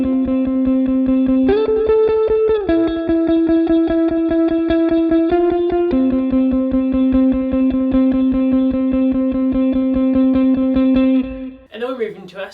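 A riff played at full speed on guitar with effects, a steady run of plucked notes that holds loud and even throughout, with a brief pitch-bending swirl at the end.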